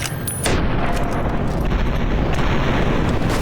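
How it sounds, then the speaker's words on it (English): Heavy gunfire in Fallout New Vegas, a loud booming blast followed by a dense roaring burst of shots aimed at a large enemy, sustained and close. "I am more than happy to take cheap pot shots at it."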